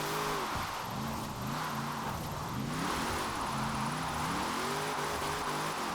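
Car engine in the racing game Forza Horizon 4, a steady droning hum whose pitch repeatedly climbs and falls as the car accelerates and shifts, constant and fairly loud.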